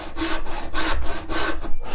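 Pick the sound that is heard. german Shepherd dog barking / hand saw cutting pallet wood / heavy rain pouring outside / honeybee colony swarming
hand saw cutting pallet wood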